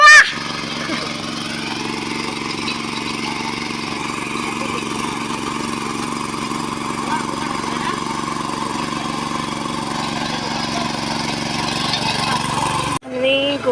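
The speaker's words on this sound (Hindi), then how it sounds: "ये छोटे ट्रैक्टर हमारे खेतों में इस्तेमाल होते हैं" A small farm tractor engine runs steadily in a hillside field, a continuous close mid-pitched drone with a rattly idle character, holding even throughout and cutting off abruptly near the end.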